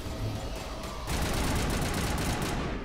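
Sustained assault rifle fire in the Mass Effect video game, a dense rapid burst erupting after a quieter first second and continuing loud and close to the end, with no talk over it.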